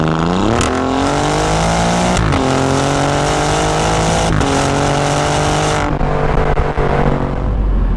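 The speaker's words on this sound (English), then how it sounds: "So I've currently got the car set up in race mode just so it makes the outrageous noises out the back." An Alfa Romeo Giulia Quadrifoglio's exhaust roars loudly in race mode, revving up repeatedly with sharp rises in pitch and crackling bursts, then easing off near the end.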